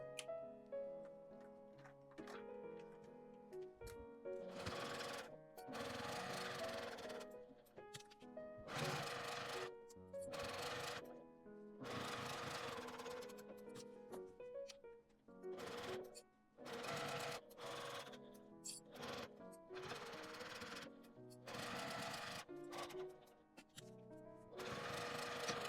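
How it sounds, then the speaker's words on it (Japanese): A sewing machine advanced by hand-crank while stitching along a zipper on a clear pocket pouch: bursts of rapid, steady mechanical ticking and whirring separated by short pauses, close and fairly loud, with no voices. "ファスナーのところは通しにくいので手回しでミシンを送っても良いです。"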